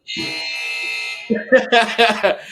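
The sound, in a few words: buzzer sounding, like a shot clock or fire alarm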